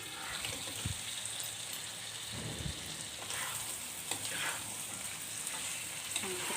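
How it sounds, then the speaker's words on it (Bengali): Marinated country chicken hits a pan of frying spices, giving a steady broadband sizzle with a few soft knocks and stirring scrapes, close and continuous with no talking. "মেরিনেট করা মাংসটা আমি দিয়ে দিচ্ছি এখানে"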